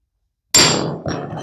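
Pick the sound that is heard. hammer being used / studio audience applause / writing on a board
hammer being used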